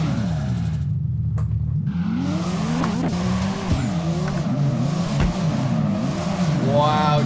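A Toyota Chaser JZX100 drifting in a racing game, its engine revving hard while the tires squeal in long sliding wails, close and loud throughout.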